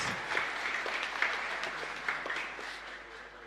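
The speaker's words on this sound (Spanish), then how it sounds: "ellos también son merecedores de un fuerte aplauso para todos los servidores" A congregation at a Pentecost Sunday Mass in a chapel gives a warm round of applause for the servers, a steady roomy clapping that carries on evenly and tapers slightly at the end.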